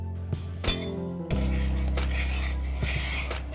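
Spoon clinking against a pot of walnut maple ice cream topping on the stove, a few sharp metallic taps followed by a steady bubbling hiss of the boiling mixture underneath, close and moderately quiet.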